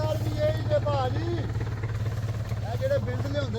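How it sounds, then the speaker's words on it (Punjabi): A low, chugging tractor engine runs steadily throughout, close by, during farm work in Italy, while a person talks over the drone. "ਟਰੈਕਟਰ ਚਲਾਉਂਦੇ ਠੇਕੇਦਾਰ"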